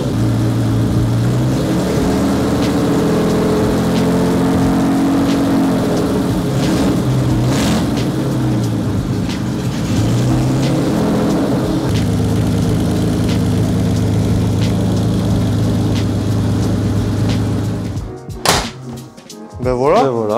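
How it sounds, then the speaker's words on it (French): A BMW E30 engine idles steadily and loudly in a garage for a long stretch, its low hum rising slightly before cutting off near the end. "il y a du bruit avec le moteur allumé"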